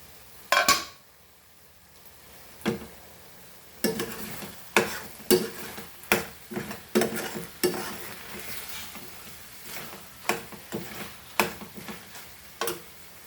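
Goan sausage (choris) cooking under a lid in a pan, with irregular sharp pops and spits bursting over a quiet sizzle, close and fairly loud, no talking.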